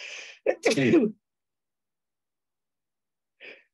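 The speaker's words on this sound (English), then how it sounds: "I'm going to sneeze" A single close sneeze with a sharp intake of breath before it, followed by silence and a brief faint sound.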